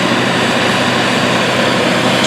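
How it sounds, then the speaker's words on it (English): A big tractor does heavy tillage, pulling a 9-shank Case IH 2500 inline ripper with a Great Plains caddy, producing a loud, steady, unbroken engine drone that stays close with no talk. "We can see the big tractor doing what it's built to do, and that is heavy tillage"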